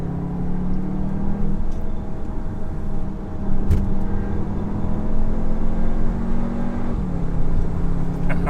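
A 2021 Cupra Formentor VZ2 compact SUV engine drones steadily at close range while driven fast, its pitch climbing slowly as it speeds up, then dropping briefly near the end.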